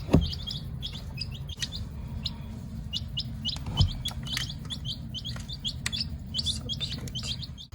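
Four baby chicks peep inside a small box, sending out many short, high-pitched chirps in a busy, overlapping stream over a faint steady background hiss, close and moderately loud, with no voices.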